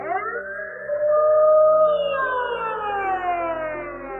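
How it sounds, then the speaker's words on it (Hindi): A naval base alarm siren wails loudly and alone, its pitch sliding up and settling into a long sustained howl that holds steady to the end. "सुबह के ठीक 7:57 पे डोरिस को एक सायरन सुनाई देता है।"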